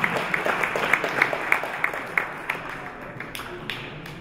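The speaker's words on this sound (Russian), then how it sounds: "Аплодируем спортсменам" Audience at a grappling tournament final applauds the athletes, a run of steady rhythmic claps up close that thin out and fade toward the end, over light crowd murmur.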